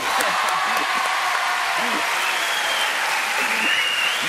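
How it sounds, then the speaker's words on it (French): Studio audience applause on a French television talk show, a full, continuous round of clapping with some voices and faint cheering mixed in. "applaudissements"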